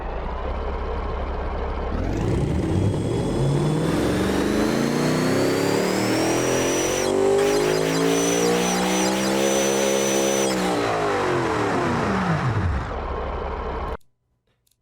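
A twin compound turbo Yugo engine in a video game revs up loudly, climbs through a long sweeping rise in pitch, holds a high wail with sharp crackles, then winds back down before cutting off abruptly.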